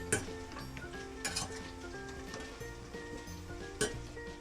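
Chocolate stirred into hot cream to melt into ganache, 80 g dark and 80 g milk chocolate, with a steady soft wet scraping and a few sharper clinks of the utensil against the bowl, close and fairly quiet.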